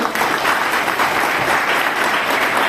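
Dense, steady applause from an audience fills the space at a constant loud level, broad and continuous with no pauses or distinct claps standing out.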